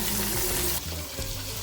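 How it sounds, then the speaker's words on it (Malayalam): Masala-coated banana fish, also called spade fish, sizzles in hot oil with a steady, close frying hiss that dips slightly partway through, with no voices. "ഇനി ഈ ഫിഷ് മസാലയിട്ട ഈ ഫിഷ് നമുക്ക് ഇതിനകത്തോട്ട് വയ്ക്കാം"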